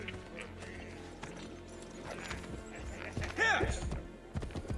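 Horse hooves clip-clopping in Assassin's Creed, a light steady rhythm of steps under game ambience with a brief louder burst of animal calls near the end.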